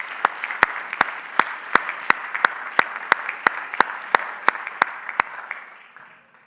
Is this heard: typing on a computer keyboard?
no